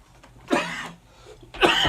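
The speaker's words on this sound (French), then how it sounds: "C'est pas méchant, mais je tousse un peu." A man coughs twice in a quiet room, two short, close, fairly loud bursts separated by about a second of near silence.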